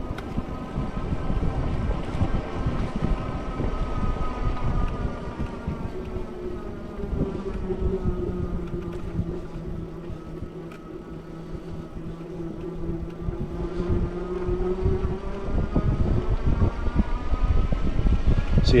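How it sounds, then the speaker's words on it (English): Electric motor of a Mokwheel Granite e-trike whirring while riding, a faint tonal whine that rises and falls with speed over steady wind and road rumble, no talking. "you can see the noise in the motor picks up as you get a little bit faster"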